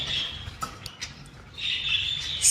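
Spangle budgerigars, rare caged birds kept with special nests, chirping and squawking in a few short bursts, with a steadier chattering warble rising toward the end, close and moderately loud against a quiet room.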